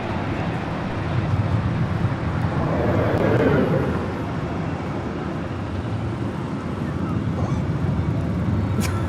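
An airliner approaches runway 24 right at LAX, a broad, steady jet roar with a gentle swell in the middle, moderately distant over constant background rumble.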